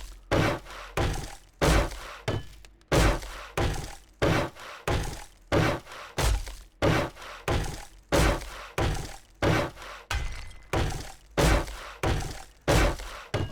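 In the video game 7 Days To Die, a nail gun fires during horde base construction, giving a steady rhythm of loud, sharp thunking hits spaced about every half second to second over many repetitions.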